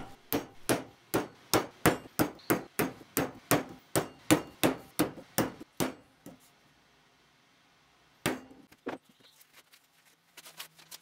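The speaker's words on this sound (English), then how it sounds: "I use a nail to punch the centre of each hole that needs to be drilled" A hammer drives a nail into wood to punch the centres for drill holes. About fifteen sharp, evenly spaced taps come close and loud, then a pause and a few scattered knocks.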